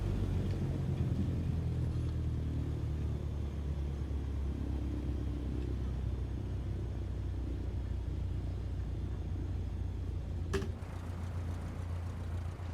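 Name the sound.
Cessna 152 airplane taxiing to parking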